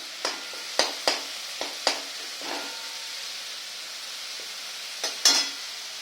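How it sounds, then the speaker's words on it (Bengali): Spice paste and tomatoes frying in a pan while being stirred, a steady sizzle broken by several sharp scraping strokes of the spoon near the start and again toward the end. "মশলাটা দেখুন ভালো করে কষে নিচ্ছি। টমেটোগুলো নরম হয়ে যাবে।"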